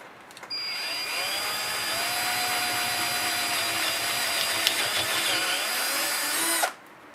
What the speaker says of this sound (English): So we're going to drill this a couple of 3 times to get there.